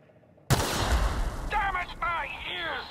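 Gunfire erupts in the role-playing game The Outer Worlds, a sudden loud blast breaking a near-silent moment, followed by sustained rattling shots that keep going while a voice calls out over them.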